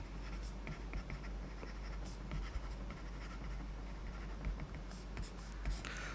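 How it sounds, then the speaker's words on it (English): Steady scratching of a pen writing out equations during a lecture on free surface flows, continuous and close over a low background hum, with no talk. "So let's write down the usual ones."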